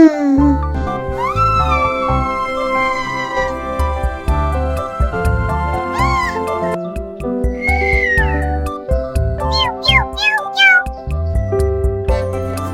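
Several rising and falling cat meows come over a bouncy children's song with steady backing music, repeated in quick bursts later in the passage.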